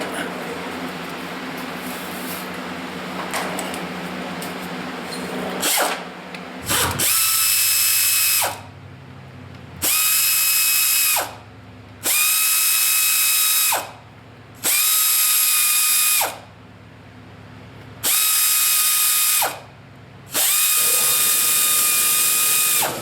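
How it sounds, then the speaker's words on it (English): An air ratchet pulls bolts from a forklift engine during a teardown, running in six or seven loud, even bursts separated by short pauses, after a stretch of quieter shop noise and a compressor rumble. "So I got that air ratchet."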